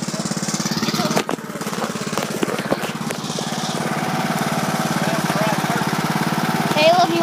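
A go-kart engine runs steadily close by with a buzzing, rapidly pulsing drone. It holds an even level throughout, with faint voices and a few knocks over it.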